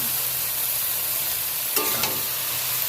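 Spinach goes into a pan of vegetables already frying: a steady loud sizzle runs throughout, broken by a brief clatter and stirring scrape near the end, with no talking.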